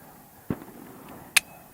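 A ZRO Delta FKS-9 pistol fires two single shots, each a short, sharp crack, spaced almost a second apart against a quiet background.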